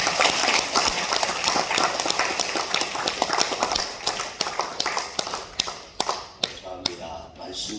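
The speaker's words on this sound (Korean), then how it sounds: "뜨겁게 박수하면서 환영하겠습니다" A church congregation clapping to welcome a visiting pastor at a women's mission society service, dense applause fading into scattered, separate claps toward the end.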